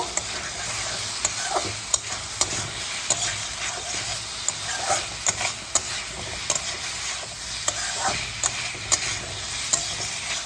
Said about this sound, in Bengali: কুদ্রিগুলিকে মশলার সঙ্গে কষিয়ে নেব